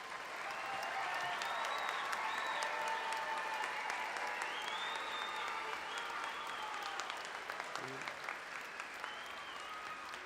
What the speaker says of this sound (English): Graduates, another round of applause.